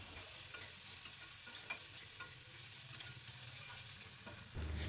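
Salted onions sizzle and fry in a pan, a steady faint crackle with soft stirring scrapes throughout and no talking.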